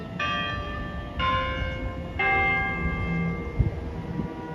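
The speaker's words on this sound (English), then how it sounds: "That was like a first quarter chime." St Mark's Catholic Church tower bell in Brooklyn ringing its 7:15 first quarter chime, three clear bell strikes about a second apart, each ringing on with a long resonant decay, loud and without talk.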